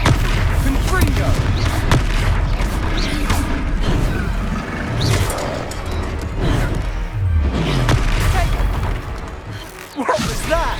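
Confringo spell blasts in Hogwarts Legacy, fiery bursts and crashing impacts amid a chaotic combat din, several loud booms scattered through the stretch with voices talking in between.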